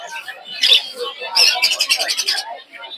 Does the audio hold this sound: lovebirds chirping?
yes